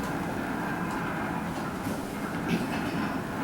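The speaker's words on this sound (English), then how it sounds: "Every time I hear that train coming to town," A train rumbling toward a town, a steady continuous rolling roar of rail cars, fairly loud and alone with no voices.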